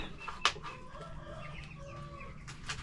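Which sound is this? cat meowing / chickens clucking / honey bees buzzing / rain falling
chickens clucking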